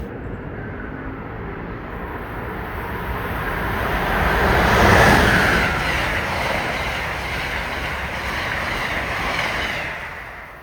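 ACS 64 electric locomotive with an America 250 decal passing on a train, a broad rushing roar that swells toward a peak midway and then eases off while staying steady, with no voices.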